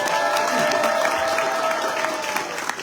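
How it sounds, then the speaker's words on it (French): Audience applauding Nadia at a Comorian community gathering, steady dense clapping held at a constant level for the whole stretch with a faint voice-like tone running through it. "Applaudissez-la, super fort"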